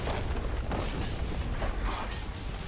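A League of Legends turret is destroyed in a burst of heavy, booming explosion noise that rumbles loudly and continuously with dense crackle throughout.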